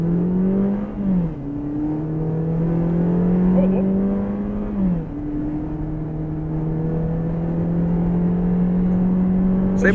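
A Peugeot 2008 Allure pulls hard at full throttle, its muffled engine note rising steadily, dipping briefly at two gear shifts, then climbing again.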